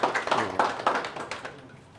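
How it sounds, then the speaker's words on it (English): An audience at a county event on bridging the digital divide in Homa Bay breaks into a round of applause, a burst of scattered clapping that swells briefly and then tapers off within a couple of seconds. "A round of applause."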